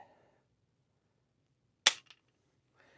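A dry-fire trigger pull on an S&W 1854 lever-action rifle with the safety off gives one sharp, close metallic snap, followed by a smaller click in quiet surroundings.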